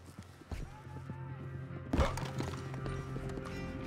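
In a video game, a horse's hooves clop at moderate volume, followed by a sudden burst of sound and a continuing rumble with faint, whinny-like tones.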